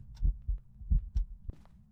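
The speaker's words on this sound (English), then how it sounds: "Every heartbeat for me has been super, super loud." A loud heartbeat from the Phasmophobia ghost-hunting game thumps in a steady double-beat rhythm, four heavy low pulses with a brief thud afterward, close and alone with no talking.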